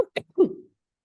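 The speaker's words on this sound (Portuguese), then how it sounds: "Nossa, eu vou querer tossir." A person gives two or three short, dry coughs close to the microphone. Silence follows.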